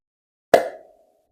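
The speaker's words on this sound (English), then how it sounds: "What about a cartoon pop? So I'm imagining this like a bubbly sound." A single short, bubbly cartoon pop, AI-generated as a sound effect, heard as one clean plop that fades within a fraction of a second against silence.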